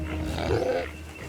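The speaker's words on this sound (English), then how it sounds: "That's the sound of an angry pig." An angry pig lets out a brief, harsh grunting squeal, a rough, throaty cry lasting about a second, close and fairly loud.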